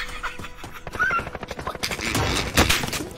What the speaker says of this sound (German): Ich krieg Schüsse.